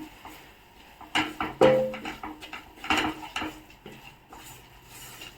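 A spoon scrapes and clinks against a pan while two spoons of maida fry for white sauce pasta, giving a few sharp metallic knocks and stirring scrapes over a faint background.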